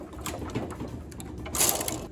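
A knitting machine carriage is pushed across the needle bed to knit one row of open lace, a short, faint mechanical whir and clatter with a brief louder swish near the end.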